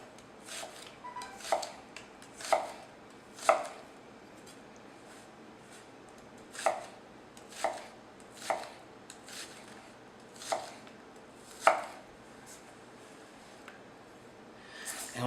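A knife chopping shallots on a board, with about ten crisp, separate chops spaced irregularly, close and clear over a quiet room, with no talking.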